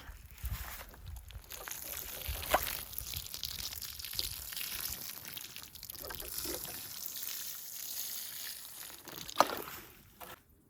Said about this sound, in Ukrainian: беру лійку і погнали.